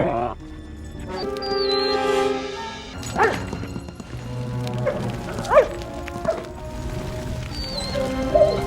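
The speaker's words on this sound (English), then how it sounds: "You're a nice doggy." A dog yips and barks in short bursts amid a tense film scene, with people speaking over and between the barks and whimpers.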